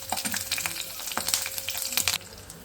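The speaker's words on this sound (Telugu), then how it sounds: "నెక్స్ట్ ఇదే ఆయిల్లో పచ్చిమిర్చి వేస్తున్నా." Green chillies drop into hot oil already used for frying papads, bursting into a lively crackling sizzle with rapid pops for about two seconds before it suddenly goes quiet.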